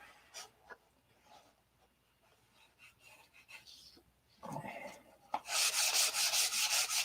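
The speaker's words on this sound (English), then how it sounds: "I want to get this sanded out real good." Sandpaper rubbed by hand across a model aircraft wing surface before doping, giving soft irregular scratchy strokes that grow louder and denser toward the end, close by with no talk.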